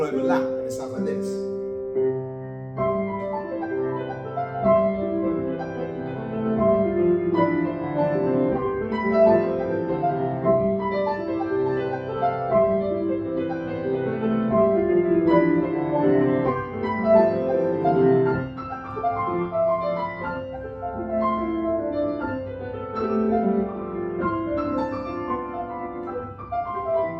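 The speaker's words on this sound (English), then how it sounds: "So I've got that repeating pattern, just descending down the piano." Piano playing several overlapping repeating patterns that descend down the keyboard, forming a dense, continuous cascade of notes over a long stretch, played alone without talk.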